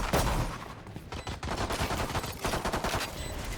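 Gunfire during a pistol round of the video game Valorant, rapid loud shots and cracks crowding a few seconds of dense action noise, with no clear talk over it.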